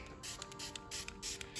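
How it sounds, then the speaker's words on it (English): A hand-pump spray bottle mists hydrogen peroxide onto the roots of a repotted Dendrobium orchid in quick, evenly spaced hissing squirts, about six in a row, close and fairly loud over a faint steady hum. "So I'm just going to take some hydrogen peroxide and just give it a good spray."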